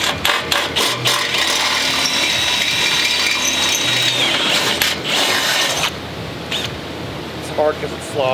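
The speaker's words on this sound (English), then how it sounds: "we're gonna go ahead and use a 5/16 inch drill bit to drill this a little bigger" Power drill boring with a 5/16 inch bit during an off-road storage system install, a steady loud whir that runs for about six seconds before stopping, followed by quieter handling noise.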